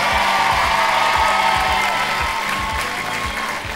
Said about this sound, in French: On ne s'en lasse pas, surtout que c'est pour applaudir Sabrina et Thomas.